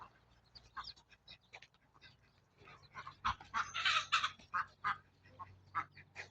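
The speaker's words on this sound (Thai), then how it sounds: "ไก่สิไปเลยนะ" A flock of chickens clucks and squawks in irregular bursts outdoors, fairly soft and scattered at first, then growing busier and louder with overlapping calls.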